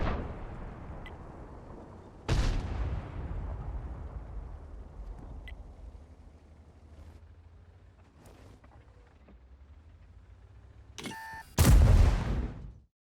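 A tank gun fires in a World of Tanks match with the 50TP tank: a sharp, loud blast near the start with a long decaying rumble, then a second heavy shot near the end over a low background hum.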